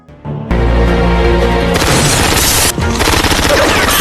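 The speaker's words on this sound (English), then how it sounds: "he was suddenly attacked by Dragon with consecutive shots" Loud rapid bursts of automatic gunfire in a movie shootout, consecutive shots rattling continuously with heavy booming impacts and a brief lull near the end before the firing resumes.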